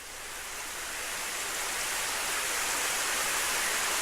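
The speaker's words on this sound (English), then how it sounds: "Suddenly it started raining." Video game rain sound effect: steady, hissing rainfall that swells slightly and then holds as a constant even wash of noise, with no voices.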